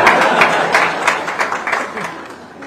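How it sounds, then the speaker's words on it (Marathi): An audience bursts into applause, dense clapping from many hands fairly near, strong at first and then thinning out and fading over a few seconds. "या मुद्द्यावर सगळ्या नवरे लोकांनी टाळ्या वाजवायला पाहिजे."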